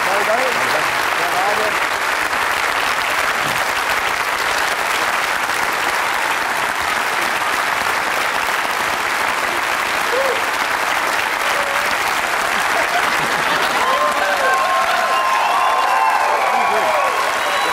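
D: A German late-night comedy talk show studio audience applauds a singer, sustained clapping that stays loud and steady for a long stretch while voices talk beneath it.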